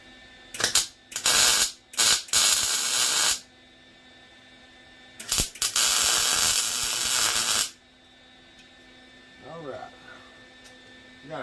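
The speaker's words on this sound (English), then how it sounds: "So I'm fixing to weld this on here, and we're going to see if we can get it gusseted up." A gusset is welded onto a wood splitter with several loud bursts of crackling, hissing arc welding, some short and one longer, separated by quiet gaps with a faint hum.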